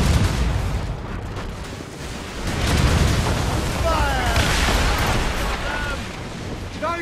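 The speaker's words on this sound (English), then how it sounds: "Use explosive shot! Fire!" Explosive cannon shots roar out in an Assassin's Creed Rogue naval battle, a broad, rumbling boom that swells and keeps rolling for several seconds amid battle noise and faint shouting.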